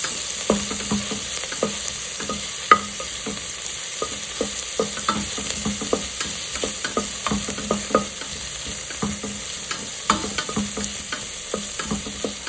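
Onions sauté in a pan for a one-pot peas and paneer pulao, a steady close sizzle with frequent scraping stirs of a spoon, and no voices.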